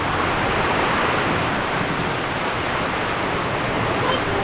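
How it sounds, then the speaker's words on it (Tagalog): Heavy rain pours steadily during a typhoon, a dense, even hiss that fills the whole clip at close range, with no gaps and no voices. "Lakas ng ulan, oh."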